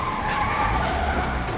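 A truck skids loudly in Spider-Man Remastered, a sustained screeching tire squeal over a rumbling engine, steady and close for the whole moment with no talk.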